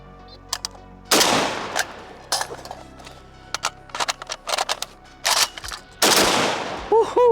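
A Zastava M77 rifle in .308, a semi-automatic AK-pattern gun, fires a series of loud, sharp shots in irregular bursts outdoors, with a metallic ring after some shots.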